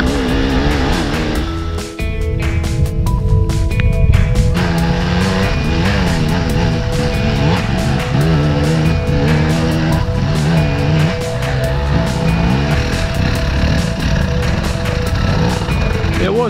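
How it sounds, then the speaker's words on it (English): An old Kawasaki KDX 200, a 200 cc two-stroke dirt bike, climbs a rutted, muddy enduro hill. The engine is loud and close, revving hard with rising and falling pitch and no let-up. "And then Danny just flies up it on the old Kawasaki KDX 200 on his first and only attempt"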